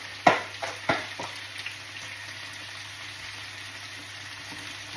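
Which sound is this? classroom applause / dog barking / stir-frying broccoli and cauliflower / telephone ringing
stir-frying broccoli and cauliflower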